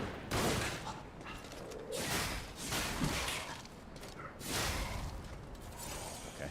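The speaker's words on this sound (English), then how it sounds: "So they were repeater rifles." Repeater rifles fire in Lies of P as a series of sharp bursts in quick succession, several volleys spaced about a second apart with mechanical clatter between them.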